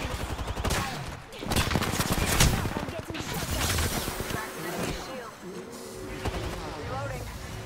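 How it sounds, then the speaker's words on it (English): Rapid bursts of video game gunfire strike the player. Dense, cracking volleys are loud and close, with a voice talking over them at times. "I'm getting shot"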